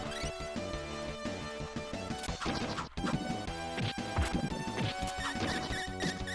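A barrel hurled into another barrel in a Mighty Morphin Power Rangers video game gives a loud, sharp smash-and-crash, set over dense, continuous game music and effects.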